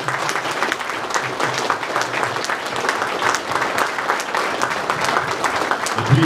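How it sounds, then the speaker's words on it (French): Sustained applause from an audience at a medal and diploma ceremony during a town fête, steady and dense throughout with no voices on top. "applaudissements"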